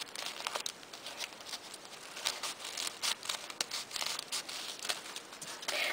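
Scissors snip and crinkle coffee filter paper close up, giving a busy run of dry rustles, crackles and soft cuts in an irregular rhythm with no voices.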